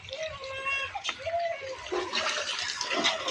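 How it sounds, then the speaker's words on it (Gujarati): Clean water gushing steadily from a village borewell pipe, a continuous splashing rush with children and someone talking over it. "જુઓ જુઓ પાણી કેવું આવે છે બોરનું"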